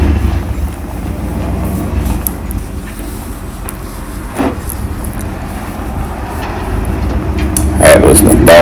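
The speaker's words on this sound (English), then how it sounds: "twist 2 wires together and touch another one and start the old truck" An old M715 Kaiser military truck engine runs steadily with rumbling road noise and rattling, riding along; a few clunks and a brief voice near the end.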